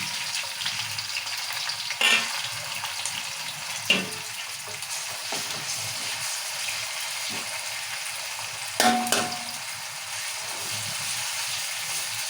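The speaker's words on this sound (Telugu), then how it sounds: "సో ఇప్పుడు ఉల్లిపాయల్లో పచ్చిమిర్చి మంచిగా వేగాలి వేగాలి" Onions and green chillies fry in a pan as the base for a fish curry, a steady close sizzle running throughout with a few brief stirring knocks and scrapes.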